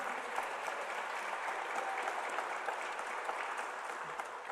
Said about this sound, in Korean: 지금 박수 쳐야 되는 거 아니에요?